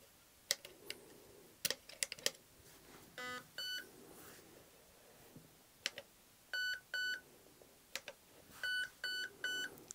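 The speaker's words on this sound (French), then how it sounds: "on a un son, on a un bip toutes les 2 secondes" Short electronic beeps from an Ama Tsu Maru electronic trigger unit (ETU), sounding every two seconds, ring out in quick pairs at intervals, mixed with scattered sharp clicks and taps in an otherwise quiet room.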